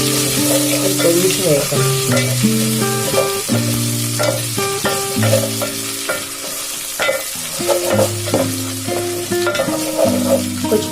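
Ginger garlic paste sizzles and spatters in hot oil as it is stirred in a pan while making pudina rice, a steady crackling fry with scraping stirs and a brief spoken remark.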